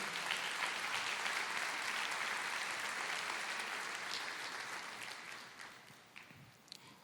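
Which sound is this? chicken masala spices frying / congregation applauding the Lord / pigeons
congregation applauding the Lord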